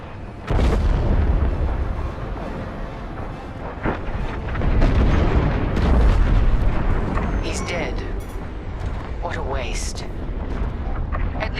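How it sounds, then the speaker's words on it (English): A frigate explodes in Star Wars Squadrons: a sustained, heavy rumbling blast with scattered crackling bursts, running under urgent voices talking throughout. "The frigate is about to explode!"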